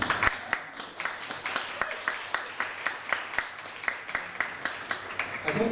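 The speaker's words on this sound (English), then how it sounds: "Can we have a round of applause, please?" A small audience claps for Kimberley Brown, newly elected at a student union results night, the individual claps sparse and rhythmic, fairly close, over a few seconds with faint background murmur.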